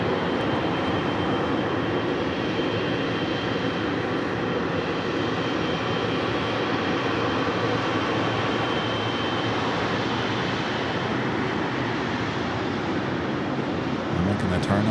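A Philippine Airlines airliner on flight 113 pushing back and taxiing at LAX, its engines a steady, unbroken hum and rumble at an even level, with a voice talking over it.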